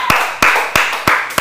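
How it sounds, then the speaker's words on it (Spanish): Five loud, close, evenly spaced hand claps ringing out alone, sounding like a single person clapping slowly in a room. "Un aplauso."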